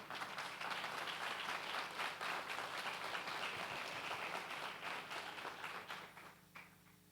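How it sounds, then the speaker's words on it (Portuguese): A church congregation claps in applause for the Lord, a dense, fairly distant wash of hands that holds steady and then fades out near the end. "Então aplauda o Senhor."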